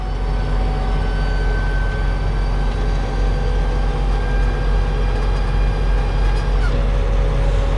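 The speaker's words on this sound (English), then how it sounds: "and now I'm going to bring the back down." A high rail stacker lowers its rear deck with a steady, loud mechanical rumble and a hydraulic whine, a constant drone with no talk.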